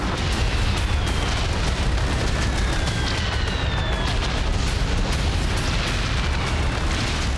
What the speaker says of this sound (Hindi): उसके अंडरग्राउंड सैन्य ठिकाने को ब्लास्ट करके उड़ा दिया है।